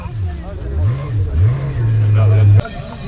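A 4x4 buggy engine revs hard in a snowy winter resort, climbing and falling in pitch several times before holding a loud sustained roar that cuts off abruptly, with voices audible underneath.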